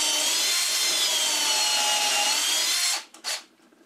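A power drill bores a dowel hole in a wood panel using a Jessem doweling jig set at 3/8 inch, giving a loud, continuous high whine for about three seconds, then a quick stop and brief re-trigger.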